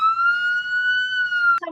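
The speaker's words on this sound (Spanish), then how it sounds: "¿cómo se llama? La sirena." Recorded emergency vehicle siren playing as a steady, loud wailing tone that holds for about a second and a half, then gives way briefly to a different sound.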